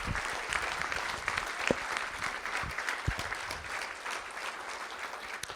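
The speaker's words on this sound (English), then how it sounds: "Let's give Tucker a round of applause." Audience at a school board of trustees meeting applauding a high school senior, a steady patter of many hands heard from a distance at modest level, lasting the whole stretch without voices over it.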